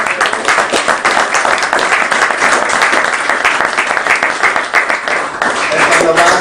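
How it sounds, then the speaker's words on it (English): A forestry forum audience breaks into a loud, sustained round of applause, dense clapping that stays full and steady from start to finish with a few voices mixed in. "You deserve a round of applause."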